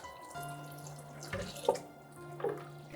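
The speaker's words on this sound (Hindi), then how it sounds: "अभी थोड़ा सा हम इसके अंदर जमजम वाटर ऐड करेंगे।" Zamzam water is poured into karhi cooking on the stove in a home kitchen, a trickling, splashing pour with a few drips and small splashes, close and moderately quiet, with no talk.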